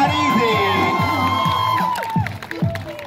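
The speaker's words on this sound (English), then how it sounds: "No, crowd, make some noise" A crowd at a street dance show cheers, whoops and shouts loudly, with a long high voice rising above the mix before the noise thins into scattered yells.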